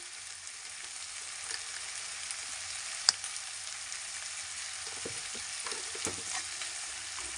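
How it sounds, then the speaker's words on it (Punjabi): Turmeric and chili powder roast in a hot pan for chana rice, giving a steady soft sizzle with faint scraping stirs and a sharp clink of the spoon against the pan partway through. "ਹਲਦੀ ਨਾਲ ਆਪਾਂ ਭੁੰਨ ਲੈਣੇ ਆ ਥੋੜਾ ਜਿਹਾ ਇਹਦੇ ਵਿੱਚ ਆਪਾਂ ਮਿਰਚ ਪਾ ਲੈਣੇ ਆ"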